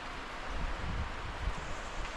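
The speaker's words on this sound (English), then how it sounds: "It is getting windy here." A steady, faint wind hisses and rumbles with low gusty swells and no voices.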